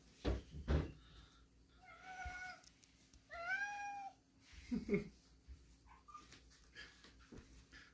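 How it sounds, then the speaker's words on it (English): Several cats meow in drawn-out, plaintive cries, interspersed with soft thumps and shuffling, fairly quiet and close. "The kitties are still hungry."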